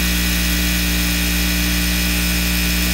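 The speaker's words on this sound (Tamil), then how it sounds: "இப்போ நீங்கள் பாபின் சுற்றும் போது சவுண்ட் வரும்" A Singer 9900 sewing machine winds a bobbin with a steady, loud motor whir that holds constant and unbroken throughout, with no voices.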